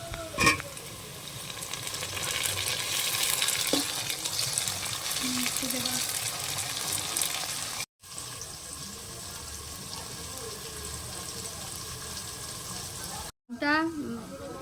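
Tomato tossed onto onions already fried golden-brown for mutton kosha, sizzling steadily in the pan with stirring scrapes across most of the stretch, broken by two brief silent gaps.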